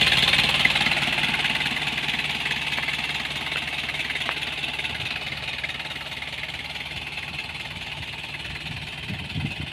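A Nissan Frontier pickup with a CD27 diesel engine idles steadily up close, giving a constant low rumble with a faint knocking character that fades slightly over time, and no one speaks.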